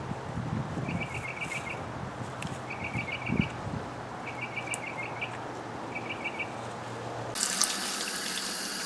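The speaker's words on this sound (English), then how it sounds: "Rinse the leaves" Water runs steadily from a tap while sweet potato leaves are rinsed, a continuous splashing hiss with faint repeated chirping birdsong and a brief knock in the background.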